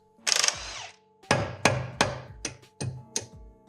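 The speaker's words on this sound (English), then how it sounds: "Next up, we'll get our yoke off." Metal parts being struck and knocked loose while removing the output yoke from a TH400 automatic transmission on a 1990 GMC C2500 teardown; a rattling clatter followed by several sharp, evenly spaced hammer-like blows, close and loud, with no talking.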